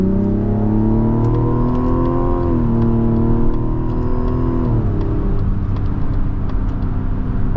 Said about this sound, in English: let's go take this Mazda CX-70 Turbo S Premium Plus on a drive